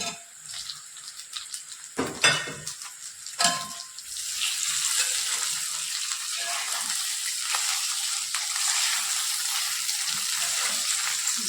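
Fried okra tipped into a spicy masala with potatoes in a pan, with a few sharp clatters early on before a steady, close sizzle takes over and runs to the end.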